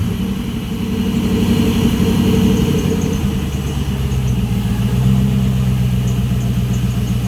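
A turbocharged LS V8 on a custom turbo setup runs steadily nearby, a loud, dense rumble that swells slightly in the middle and holds without any talking.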